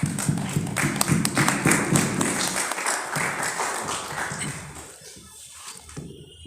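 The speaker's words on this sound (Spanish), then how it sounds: "Un aplauso, por favor." Audience applause at a Peruvian law book presentation, a loud, busy round of clapping that thins and fades toward the end, leaving a few scattered claps and thumps.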